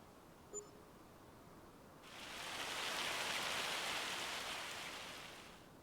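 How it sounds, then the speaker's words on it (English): Rain falling in Farming Simulator 25 on a Montana farm map: a steady hiss of rain that swells in after two seconds and holds evenly, with no talk over it. "Rain is a good thing. We got rain."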